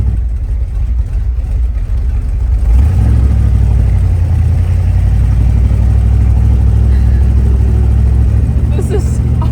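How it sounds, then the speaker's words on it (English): A truck engine rumbles low and steady while driving through a neighborhood, climbing into a heavier revving drone after a few seconds and staying loud and close throughout. "I'm driving my truck."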